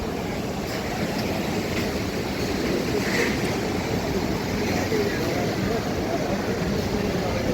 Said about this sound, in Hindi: हॉट वाटर, जहाँ से पानी निकलता है।